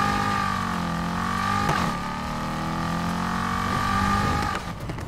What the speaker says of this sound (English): we're going to put it in second gear, we're going to rev our engine, we're going to hold the brake,